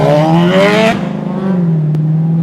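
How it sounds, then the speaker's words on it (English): A four-cylinder motorcycle revs hard and sweeps past on a Brisbane road, its loud, rising engine note peaking close by and then dropping to a lower drone as it moves away. "One of my favourite four-cylinder motorcycles."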